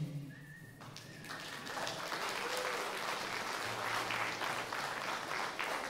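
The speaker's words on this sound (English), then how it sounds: "We live for the applause." Audience applause at a spring school band concert swells after a brief moment of quieter sound, building into sustained clapping with a few whistles and cheers from the crowd.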